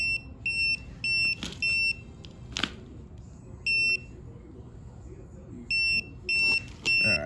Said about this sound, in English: here are the beeps